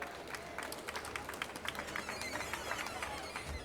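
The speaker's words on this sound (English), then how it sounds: "give a round of applause" Steady applause from a seated audience at an awards gala, many hands clapping in a dense, even patter of moderate loudness without speech over it.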